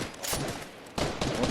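Fortnite gunfire during a squad match, coming as dense bursts of rapid shots in two clusters separated by a brief lull, loud and close with no talk over it.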